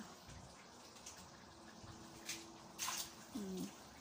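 Water runs faintly from a tap while plates are washed, a soft steady wash of noise with a few brief louder splashes near the end.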